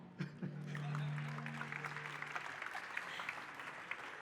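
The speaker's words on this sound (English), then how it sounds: "You can clap." Audience applause at a talk on sustainable code, a soft, fairly distant patter of clapping that swells briefly and continues evenly, with a short voiced sound near the start.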